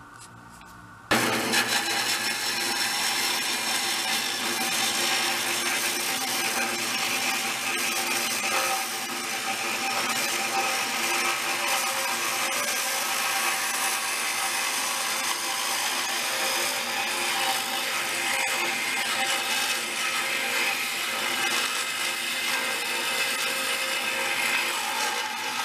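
A power tool runs at a steady, loud whine almost without pause, cutting into a part of a 1960s Corvair Monza toy car. A short quieter moment comes before the tool starts.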